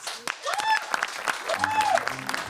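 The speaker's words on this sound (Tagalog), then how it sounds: "Palakpakan natin si Ate Alex!" A studio audience on the Filipino talk show Your Honor claps for Ate Alex, giving a lively burst of applause with voices calling out and exclaiming over it.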